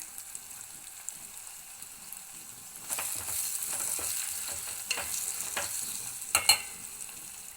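Cardamom and coriander powders are stirred into a sizzling onion egg curry. Quiet at first, then a utensil scrapes and clacks through the pan over a steady fry, with a few louder knocks near the end and no talk.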